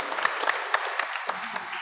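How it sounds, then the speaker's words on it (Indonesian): A parish congregation at a thanksgiving Mass claps for a priest, a brief burst of applause with sharp, evenly spaced claps standing out from the crowd, then thinning toward the end. "tepuk tangan untuk Romo Supri"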